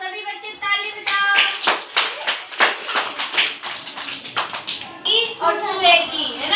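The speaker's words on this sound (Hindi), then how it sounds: "अब सभी बच्चे ताली बजाओ।" A group of children claps in a classroom, a run of sharp, fairly even claps close by, with children's sung or chanted voices before and after.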